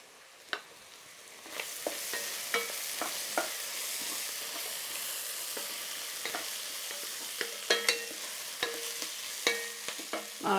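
Pre-cooked rice sizzles as it fries in a pan for fried rice, a steady hiss punctuated by repeated sharp clinks and scrapes of stirring, close and with no talking.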